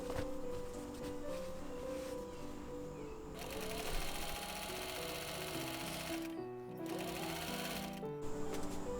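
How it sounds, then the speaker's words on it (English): A sewing machine stitches the seams of a quilted patchwork jacket, a fast continuous rattling drone close by, its motor pitch shifting with brief pauses between runs. "I sewed the shoulder seams together, then attached the sleeves"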